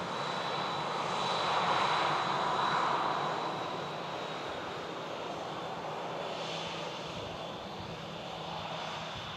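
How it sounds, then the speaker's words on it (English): A Pegasus Airbus A321neo lands at Manchester Airport arriving from Istanbul, with a continuous broad engine roar that swells and then settles into a steady rushing drone, heard from a distance without any speech. "A321neo from Pegasus."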